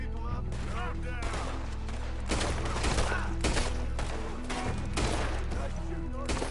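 Gunfire in Red Dead Redemption 2 rings out as a dense fusillade of repeated loud shots and booming reports over several seconds, mixed with music and in-game voices talking.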